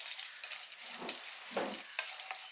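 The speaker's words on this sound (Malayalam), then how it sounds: "ചട്ടി ചൂടായിട്ടുണ്ട് വെളിച്ചെണ്ണ ഒഴിച്ചു കൊടുക്കാം ഇതിലേക്ക് കുറച്ച് കടുക് ഇട്ട് കൊടുക്കാവേ ഇനി നമ്മൾ അതിലേക്ക് തേങ്ങാക്കൊത്ത് ഇട്ട് കൊടുക്കുക" Mustard seeds and coconut pieces fry in hot coconut oil in a pan for a bitter gourd dish, making a brief, close hiss of sizzling broken by a few sharp pops and crackles.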